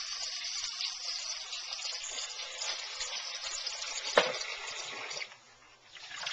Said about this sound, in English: You have to rinse it off a little bit with cold water.